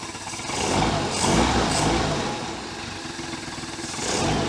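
A 1973 Larson boat with a Mercruiser 120hp engine runs steadily, a close mid-pitched engine drone that swells and eases slightly in loudness, with no talking.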